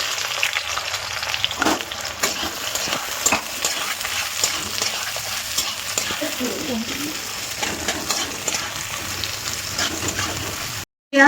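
Onions sizzle and crackle in hot oil in a kadai (wok) for a chicken masala, a continuous close frying hiss with occasional stirring scrapes.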